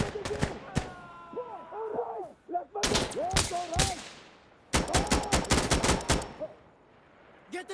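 Insurgency Sandstorm combat on the Outskirts map: bursts of rapid gunfire and sharp shots alternate with heavy blasts, loud and close, with shouted voices and tonal game sounds between volleys.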